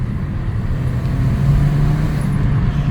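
A 2014 Ford Escape engine with a turbo leak drones steadily with a low, rumbling hum, holding a fairly constant pitch without any sharp rise or boost.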